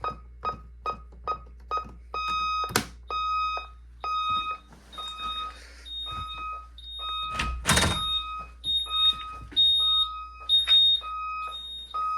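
An ADT Safewatch Pro 3000 security panel sounding its fire alarm: rapid repeating electronic beeps in a steady pulsing pattern, interrupted by a couple of louder clicks and clunks mid-way, then resuming with longer tones, close by.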